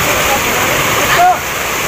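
Floodwater rushes over a damaged highway in Cebu, eroding the road from beneath, producing a loud, continuous roaring wash close by.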